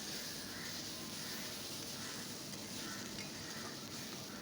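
Aubergine frying in a pan with turmeric being stirred in, a soft, steady sizzle and faint scraping under a continuous hiss, quiet and close.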